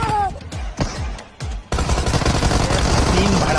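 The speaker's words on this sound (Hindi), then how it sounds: "फालतू में गोलियां क्यों चला रही है तू?" Gunfire in a PUBG Mobile battle royale match: a few separate sharp shots come first, then a dense continuous burst of rapid automatic fire with a voice briefly heard near the start.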